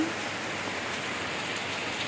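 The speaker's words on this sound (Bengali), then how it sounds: "বৃষ্টি হইং" Steady rain falls on surfaces nearby, a dense, even hiss of drops that continues without pause and no talking.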